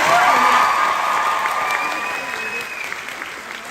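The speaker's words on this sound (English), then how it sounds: "Give them another round of applause" Loud, dense applause from a convention crowd at a fan expo celebrity panel, continuous and full throughout, slowly easing in volume with a faint sustained tone running over it.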